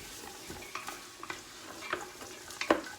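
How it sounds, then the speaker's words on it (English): Onions frying in hot olive oil while a wooden spoon stirs them, giving a low steady sizzle broken by scattered scraping taps and clicks of the spoon against the pan, close and fairly quiet with no talking. "we've got some olive oil heating, and now I'm going to put in the onions"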